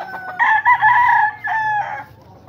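A rooster in a brooding pen in Lucena crows loudly and close by, one drawn-out call broken by a brief dip and then a final held note, with no talking.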